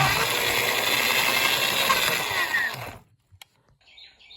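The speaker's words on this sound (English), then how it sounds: "hooked it to a drill so I can run it down in the cylinder" A power drill spinning an abrasive inside a cylinder of a Ford 5.4 Triton engine head whirs steadily with a gritty grinding rasp for about three seconds, then stops, leaving a couple of small clicks and faint rattling.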